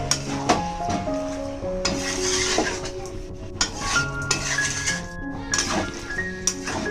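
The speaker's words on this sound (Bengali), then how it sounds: "চিনিটাও ভালোভাবে মিশিয়ে নেবো" Sugar is stirred into a mixed winter vegetable curry in a pan: repeated spoon clinks and scrapes against metal over a gentle sizzle, close by, with a soft tuneful background.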